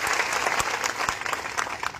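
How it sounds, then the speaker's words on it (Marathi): Loud, sustained applause from a large crowd at a Banjara community rally in Jalna, dense clapping filling the space steadily with no pauses. "टाळ्या वाजवायचा बंजारा समाजासाठी"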